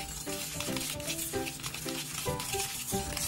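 Butter and powdered sugar being mixed together in a bowl for a plum cake, giving a close, continuous rhythmic scraping and slapping of a spoon through the thick mixture.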